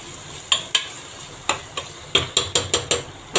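Mint and coriander sauté in a pan for prawn biryani while a spatula strikes and scrapes the pan in about ten sharp, close clacks, irregular at first and then quicker, over a faint sizzle.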